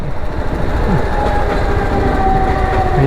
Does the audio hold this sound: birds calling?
no